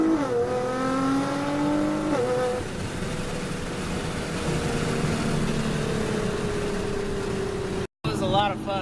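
Nissan GT-R R35 tuned for launch control, pulling hard from a 40 mph roll: a loud rising engine note climbing through gears with a shift around two seconds, then a long sustained drone, a brief dropout near the end.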